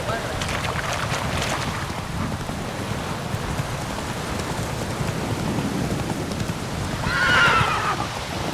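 Geralt's horse Roach from The Witcher 3 neighs amid rain, wind and galloping, with a rough whinny standing out near the end over the steady outdoor noise.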